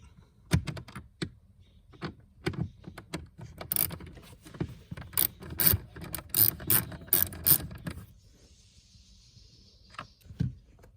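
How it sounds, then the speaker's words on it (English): Torx 20 screws backed out of the cabin filter cover on a Mercedes-Benz GLK, heard as a run of rapid ratcheting clicks in uneven bursts, close and moderately loud, then fading to quiet. "So once you're done backing out those 3 Torx 20 bits"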